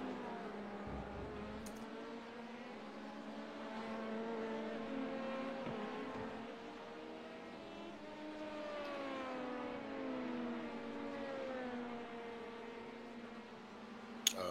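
An LMP2 prototype race car in the pit lane at an endurance race gives a steady engine drone with shifting, whining pitch that rises and falls. It sounds moderately distant and continuous throughout, with no talking.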